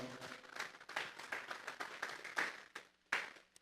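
A church congregation claps as an offering to God during a service, faint and somewhat distant, in uneven bursts that thin out toward the end, with no one speaking.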